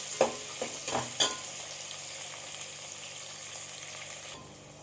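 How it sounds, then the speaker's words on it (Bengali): Chopped small onions frying in a pan for a mutton dish: a steady low sizzle broken early by a few sharp clanks of a spoon stirring, then fading quieter near the end, with no talking. "যে পেঁয়াজগুলো আমি একটু ভালো করে 2-3 মিনিটের মতো ভাজা ভাজা করে নেব।"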